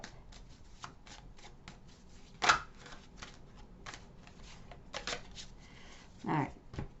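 Tarot cards shuffled and drawn from the deck in a string of soft, quick riffles and slaps, with a few louder bursts near and alone.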